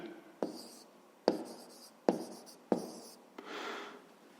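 Pen writing on paper during a 5th-grade maths lesson: four short bursts of scratching strokes, each starting with a sharp tap, then a softer scribble at the end, close and alone.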